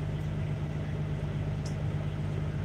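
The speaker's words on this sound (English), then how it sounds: "Trying to figure out why my damn truck is still idling" A truck engine idles with a continuous low, even drone that holds steady throughout, with no change in pace.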